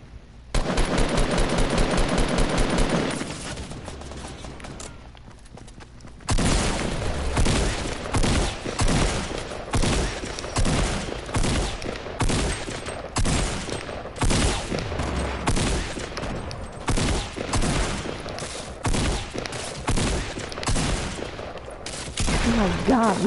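Rapid automatic gunfire rattles in a multiplayer shooter video game, with a dense burst at the start, a brief lull, then long stretches of loud, continuous firing and repeated shots.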